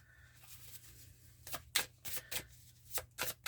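Journey oracle cards being shuffled by hand, a quick series of crisp close riffling bursts after a quiet start, over faint background hum.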